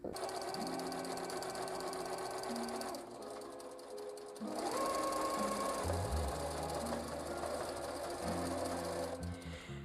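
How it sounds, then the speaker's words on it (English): A sewing machine runs steadily while stitching a doll dress, its motor whirring in even bursts with a short slowdown midway, close and clear with no talking. "Just going to sew up the dress now."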